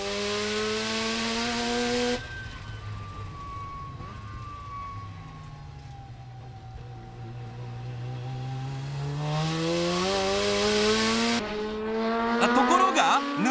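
An RE Super G race car's engine roars through a time-attack lap of Tsukuba Circuit, its pitch rising and falling with gear changes and passes, loud and close with no talking.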